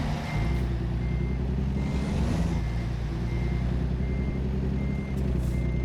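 A truck's reversing alarm beeps at a steady regular pace in American Truck Simulator, the evenly spaced tones running over a low idling engine rumble with a brief hiss of air brakes, and no one speaks.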